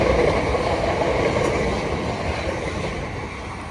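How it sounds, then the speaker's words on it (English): Class 377 electric multiple unit 377118 passes through South Croydon station on the Brighton Main Line with a steady, loud rolling roar and rail rumble, fading slightly as it runs by. "So bringing this unit through will be 377118."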